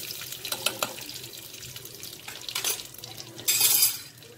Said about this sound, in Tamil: கடுகு நல்லா வெடிச்சிட்ருக்கு